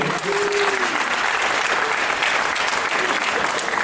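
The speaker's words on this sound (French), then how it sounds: "on peut l'applaudir pour l'encourager" A crowd applauds a volunteer coming on stage at a magic show, steady and full clapping that holds at an even level throughout, with a brief voice near the start.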